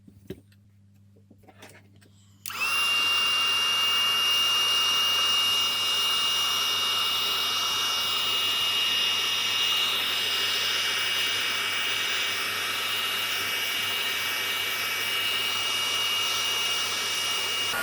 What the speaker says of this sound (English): we'll use our heat gun to set that